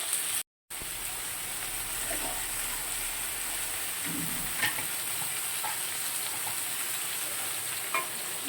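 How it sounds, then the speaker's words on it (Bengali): Sliced onion, potato and tomato fry in oil tempered with nigella seeds in a pan, a constant soft sizzle with a few faint clinks and no voices. "ঢেকে রেখে একটু ভাজা ভাজা করবো,"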